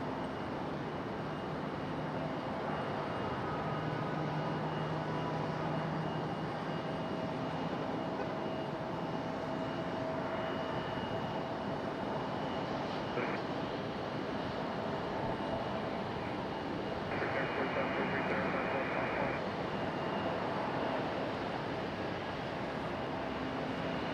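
Airbus A319 airliner turning off the runway at Raleigh-Durham airport, a steady broad engine hum heard from a distance, unchanging and alone.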